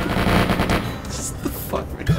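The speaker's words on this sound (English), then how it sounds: "I turn around and crouch to shoot" Rapid bursts of gunfire in the Lucky Luke video game, dense overlapping shots in the first second followed by scattered sharper pops, loud and close.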